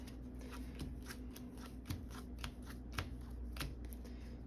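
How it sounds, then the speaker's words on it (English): Playing cards being shuffled by hand close up, a rapid series of crisp riffling bursts repeating over several seconds, fairly quiet. "Think about it as I shuffle here."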